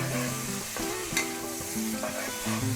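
Keema chole masala spices sizzle steadily in hot oil while a spoon scrapes and stirs the pan, close up and continuous.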